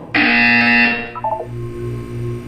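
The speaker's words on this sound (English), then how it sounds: "When you hear the buzzer, look down at the floor." A loud, harsh electronic buzzer in the video game Portal 2 blares for about a second, followed by a short chiming tone over a low background hum.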